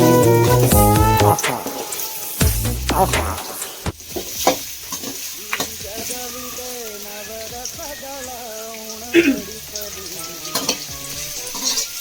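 Rice frying in a pan until golden brown, a steady close sizzle with stirring scrapes and clatters throughout, loud dense bursts at the start easing into a continuous crackle.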